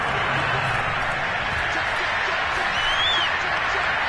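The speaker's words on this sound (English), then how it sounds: "They're going to give out a little applause on that play." A large American football stadium crowd roars and applauds in a dense, continuous wash of noise, with no clear individual voices standing out.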